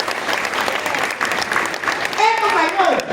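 A church congregation breaks into brisk applause, many hands clapping in a dense, steady patter with a voice speaking over it toward the end.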